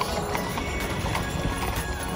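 Horse hooves clip-clop at a steady walking rhythm in the German countryside, moderately close, over a continuous background of outdoor noise.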